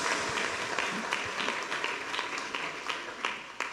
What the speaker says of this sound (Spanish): Que aplauso a Dios, hermanos